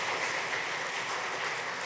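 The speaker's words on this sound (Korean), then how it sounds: "박수로 격려해 주십시오." A church congregation claps at a Sunday service after a mission report, producing a brief, even patter of applause that sounds soft and somewhat distant.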